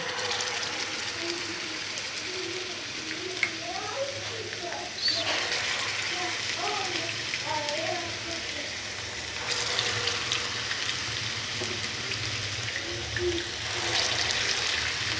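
Nargisi kofta lowered into hot oil set up a soft, steady fry: a faint broadband crackle with small scattered bubbling pops that continues without letup and brightens slightly partway through.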